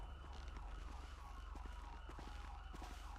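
Ambulance siren in GTA V with the LSPDFR mod, wailing steadily as the unit responds code 3, fairly faint and continuous over low engine and road rumble.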